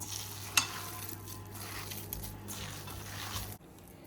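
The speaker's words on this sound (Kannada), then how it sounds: "ನೀಟಾಗಿ ಎಲ್ಲ ಮಿಕ್ಸ್ ಮಾಡಿಪ್ಪ" Masala vada batter with ginger, garlic, lemon and salt being stirred by hand in a bowl, a steady soft squishing and patting that runs for a few seconds with one sharp click early on, with no voices.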